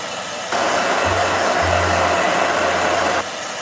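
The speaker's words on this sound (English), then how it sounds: "Hi, blow dryer." A hair blow dryer switches on and runs with a steady, loud whoosh for about three seconds, then cuts off, leaving quiet room noise.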